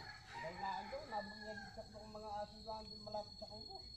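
A rooster crows at a distance while crickets buzz softly in the background; the scene is quiet and outdoors.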